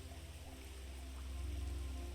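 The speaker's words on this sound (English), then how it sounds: "The sound of that rain" Steady rain drumming on a raincoat hood, a close, continuous patter with no voices.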